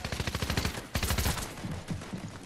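Rapid bursts of automatic gunfire crackle in a first-person shooter video game, two dense volleys of quick repeated shots followed by scattered lighter shots, loud and close.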